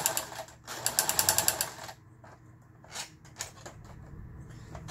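A household sewing machine stitches fabric in a fast, rapid run of rhythmic clatter that stops abruptly, followed by quieter sporadic mechanical clicks and handling noises.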